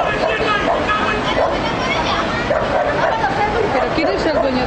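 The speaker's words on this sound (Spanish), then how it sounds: "¿Pero quién es el dueño de ese perro?" A dog at the beach barks and yelps loudly and repeatedly during an attack, close by, while several people talk and shout over the commotion.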